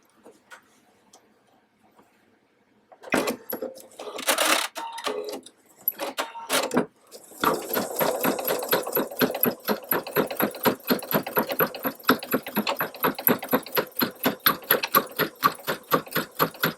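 An embroidery machine stitches a punched-work tab tie design in the hoop, with a brief burst of whirring at the start, then a steady, loud, rapid rhythmic clatter of the needle that runs on without pause.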